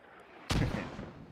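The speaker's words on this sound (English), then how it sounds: "Artillery." A single heavy artillery blast from a Post Scriptum battle for a bridge bursts in loud and close, then rolls off into a long rumbling decay.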